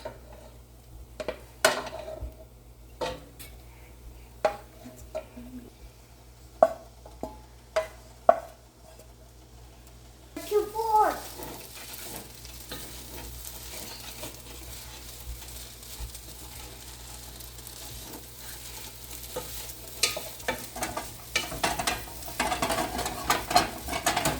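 Noodles stir-fry in a pan: sharp utensil clinks and scrapes against the pan open the clip, then a loud sizzle erupts midway and carries on with stirring scrapes to the end, no talking.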